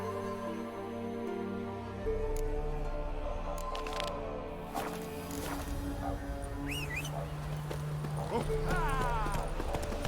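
Roach the horse gallops in The Witcher 3, a steady rhythmic clip-clop of hooves running through the whole stretch alongside a layered game soundtrack and ambient tones, loud and close.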